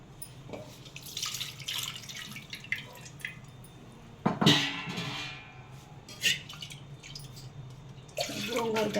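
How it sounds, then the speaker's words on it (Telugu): Water is poured into a pot of mutton gongura biryani made with coconut milk, splashing and trickling in uneven bursts with drips, moderately close, with some faint kitchen clatter. "కొంచెం వాటర్ వేసుకుందామండి మనకి అడుగు పట్టకుండా ఉడికిద్ది"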